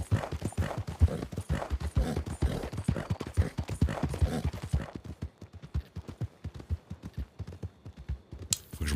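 Arabian thoroughbred horse galloping in a video game, rapid rhythmic hoofbeats drumming steadily and clearly, easing to a lighter, sparser clatter toward the end.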